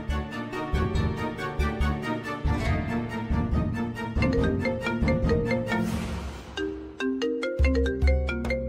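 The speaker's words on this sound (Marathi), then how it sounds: "अगं उचल फोन लवकर उर्वशी." A phone ringtone plays as a melodic electronic tune of repeated tonal phrases, loud and close, running steadily for several seconds before a shorter ascending pattern and a brief pause, with no talk.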